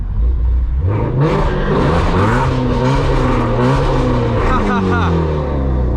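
A loud car engine roars and revs up as it accelerates past, rising in pitch through the gears, heard close and dominating the scene.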